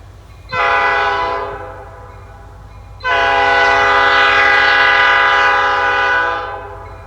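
A long grain freight train passes close by, sounding two loud horn blasts, a short one followed by a longer sustained blast over steady rolling rail noise.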